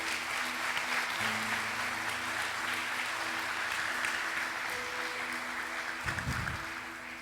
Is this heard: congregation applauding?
yes